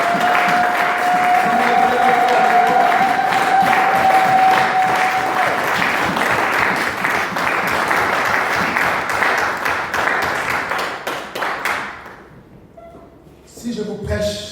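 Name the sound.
congregation applauding in church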